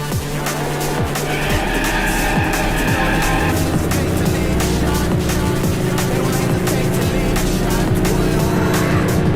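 A race car in the Need for Speed video game roars at full throttle with steady engine drone and gear changes, joined by sustained tire squeals and skidding, loud and continuous throughout.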